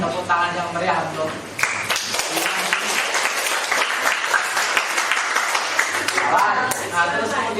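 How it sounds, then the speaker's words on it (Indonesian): Loud, sustained clapping from an audience, with a voice speaking briefly at the start and again near the end. "kita beri tepuk tangan yang meriah untuk"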